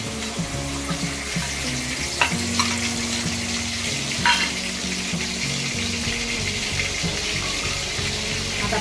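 Green chilli paste sizzling and frying in very hot oil in a wok as egg kheema is started, a steady close crackle with a few louder spits and stirring scrapes, heard alone.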